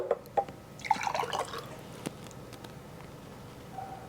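Homemade coconut milk spills and pours in faint liquid splashes and drips near the start, followed by quiet, scattered drips and small clinks in a hushed kitchen.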